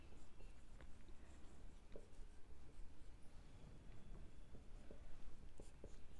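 Pen writing a bookkeeping journal entry by hand on paper for an accounting class, a steady soft scratching and patter that runs continuously at close range with no talk over it.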